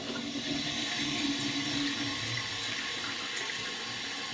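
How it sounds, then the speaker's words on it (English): A deliberately weak flush of an old high-tank toilet, with water running steadily from the tank into the bowl in a thin, continuous wash, moderately close and with no talking. "So yeah, here's a weaker flush."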